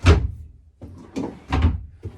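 Drawers of a three-drawer dresser in a 2022 XLR 2513 toy hauler RV opening and closing, a series of about four close, fairly loud wooden thumps and slides in uneven rhythm with no talking.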